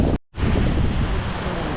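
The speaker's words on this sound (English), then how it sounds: "this is way too much wind" Strong wind buffets the microphone on a lift during pressure washing of a church, a loud continuous roar broken by a brief dropout near the start.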